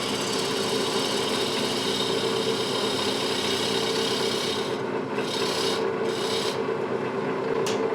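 A 1/4-inch scraper cuts a green apple wood bowl on a wood lathe, giving a steady, close raspy shaving noise over the constant motor hum, with a few brief lighter gaps near the end.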